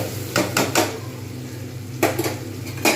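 A spatula stirs a little ghee in a cooking pan while making Kolkata-style aloo dum with green peas, giving a few sharp metallic clinks and scrapes: three quick taps close together, a pause, then one more, over a low steady hum.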